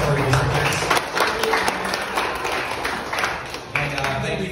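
A crowd gives a big round of applause for visitors at an event center, dense clapping filling the room steadily for several seconds.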